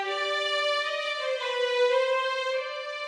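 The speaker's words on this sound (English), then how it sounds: "Second violins sound like this." Second violins from the Synchron-ized Special Edition strings library play a sustained legato line, smooth connected bowed notes with rich harmonics, steady and fairly loud, with no talking.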